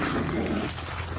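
Puppies yip and whimper briefly, close and fairly soft, in a short burst of small dog noises over outdoor background.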